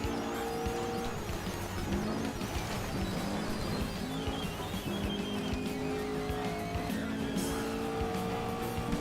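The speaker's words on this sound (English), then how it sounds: "you can really hear that engine in this car too" A car in a racing video game roars continuously, its engine note rising and shifting through gears with brief tire squeals, loud and close with no talk over it.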